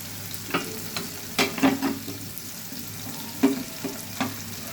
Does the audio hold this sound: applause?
no